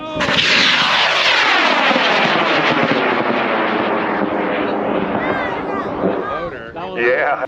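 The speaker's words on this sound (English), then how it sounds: "rocket is going in 5, 4, 3, 2, 1." Model rocket on a K560 motor launching at an outdoor rocket launch event, a loud roaring burn that sweeps and fades as it climbs, with people talking and shouting over it.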